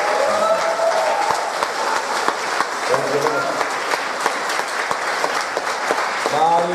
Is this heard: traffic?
no